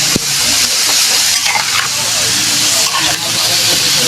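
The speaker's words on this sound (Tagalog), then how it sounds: "Igisa lang po muna natin ang ating opo. Ay, na may giniling po." Upo (bottle gourd) and ground meat sauté in a hot pan with a loud, steady sizzle and hiss, broken by a few scraping stirs and clinks of a utensil.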